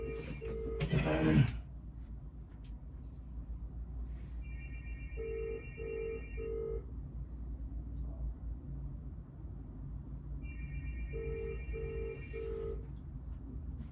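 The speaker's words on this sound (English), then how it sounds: "Yeah, I'm not answering the phone." A telephone ringing indoors in two electronic chiming bursts several seconds apart over a low steady room rumble, with a brief knock or bump near the start and no talk.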